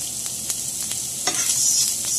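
Already-cooked sausage sizzles in a hot pan as a utensil stirs it, a constant close frying hiss punctuated by a few soft scraping strokes.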